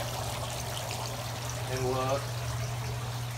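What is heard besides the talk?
water pouring from a pond pump in a caiman enclosure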